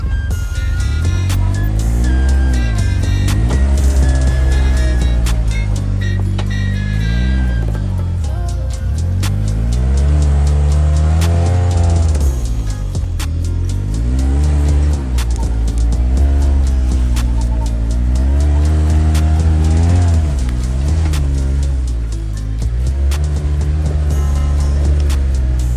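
A SPEED UTV engine drones loud and close throughout, its pitch rising and falling as the vehicle strains over a small pile of dirt, with steady harmonic revving and no talk.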